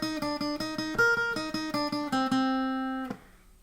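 Guitar playing the intro of a song, with quick repeated picked notes in a steady rhythm moving through a few shapes, ending on a sustained ringing note, clean and close.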